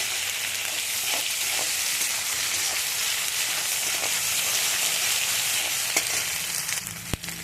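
Browned onion and garlic paste frying in a pan, a constant bright sizzle with light scraping stirs and a few small clicks near the end, close and steady.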